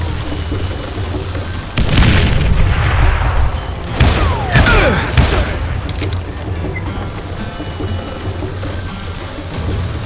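Gunfire and an explosion in the western shooter Call of Juarez Gunslinger: a heavy boom around the two-second mark followed by sharp shots and debris, loud over a constant game background.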